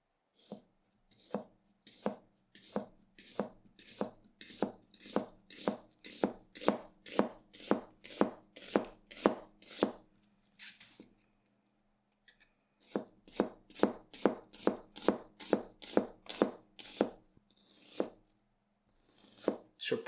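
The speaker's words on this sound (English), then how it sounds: "Nice weight driving through the onion." A 240mm AEB-L gyuto chef's knife with G10 scales chops through an onion, steady rhythmic knife strikes on a cutting board in two long runs with a brief pause between, close and clear with no talking.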